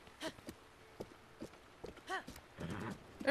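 A horse in the video game The Legend of Zelda: Breath of the Wild, with soft scattered hoof clops and snorting sounds, faint and close.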